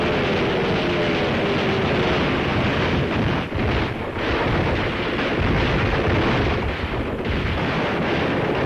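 A World War II newsreel shows air attacks in Tunisia, with dense, continuous rumbling blasts and roaring noise that stays loud throughout and has only brief dips.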